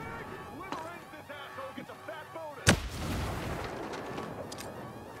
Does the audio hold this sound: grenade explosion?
yes